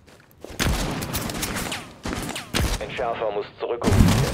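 Gunfire in the video game Rainbow Six Siege: several loud bursts of rapid shots, sharp and close, with brief gaps between volleys.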